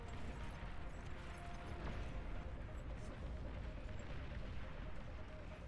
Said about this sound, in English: It's just nothing but explosions